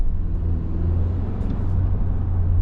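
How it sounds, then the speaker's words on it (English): A 2025 Toyota 4Runner SR5 accelerates, heard as a steady, close engine drone and low rumble that holds fairly even throughout, with no voices. "Now you do hear it accelerate"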